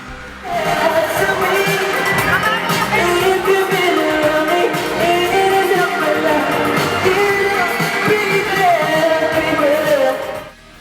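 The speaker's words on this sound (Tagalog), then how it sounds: "Dumagundong siyempre ang mall sa sigawan at hiyawan ng mga fans sa bawat number ni James." Fans screaming and cheering in a shopping mall during James Reid's Christmas show, a loud sustained crowd roar with high shrieks and whoops that swells in and holds before dropping away at the end.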